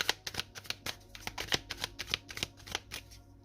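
Tarot cards are handled and laid down in a quick series of close, crisp snaps and slaps, irregularly spaced over a few seconds, with no talking.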